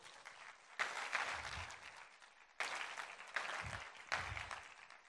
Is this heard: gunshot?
no